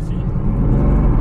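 A Bugatti accelerates with a steady, loud low rumble and whir from close by, the engine note rising slightly over a brief stretch, with no talk.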